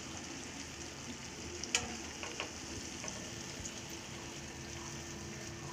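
Jalebi batter fries in hot oil in a pan, a soft steady sizzle with a few light clinks and taps from tongs, fairly quiet and without talking.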